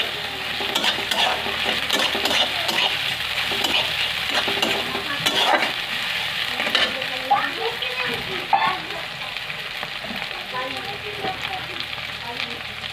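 Onions sizzle in hot oil with ginger and garlic for a spicy mutton curry, stirred steadily with a spoon scraping the pan; a continuous close crackle with bright spatter, fairly loud throughout.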